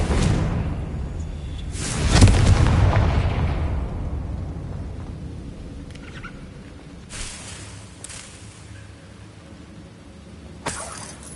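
A Confringo fire spell explodes in Hogwarts Legacy: a loud booming burst at about two seconds that rolls off slowly, followed by fainter pops and whooshes from the ongoing spell combat.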